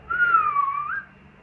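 A pet bird in a house in The Gambia gives a single clear, gliding whistle, close and fairly quiet, about a second long and alone.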